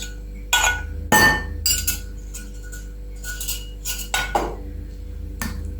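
Cheese stick dough is mixed with melted butter in a bowl, giving a series of sharp clinks and knocks of a utensil against the bowl in an irregular rhythm, close and fairly loud.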